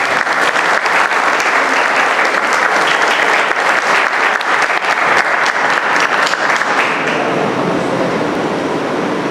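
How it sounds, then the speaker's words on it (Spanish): A live audience gives loud, sustained applause at a Spanish-language recitation of César Vallejo's poem "Los nueve monstruos", dense steady clapping that fills the whole stretch and begins to thin out near the end. "la voz del profesor Ricardo Elías Rosselló, a quien recibimos con un fuerte aplauso."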